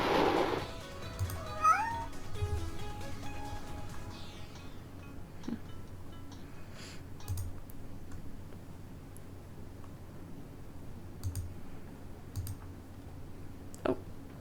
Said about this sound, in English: lifelike movements, real cat noises